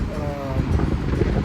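Strong outdoor wind buffets the microphone in a steady low roar with gusty swells, loud and close throughout.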